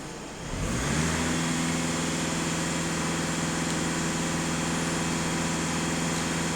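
A VW Touran 1.6 TDI EA288 diesel engine climbs from idle and holds a steady 2500 rpm, with a loud, close, continuous drone and no talking.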